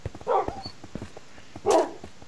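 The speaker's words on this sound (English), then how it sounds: "I got another doggy!" Tamed dogs in Minecraft bark in two short bursts about a second apart, clear and close, over light repeated game clicks and footstep-like taps.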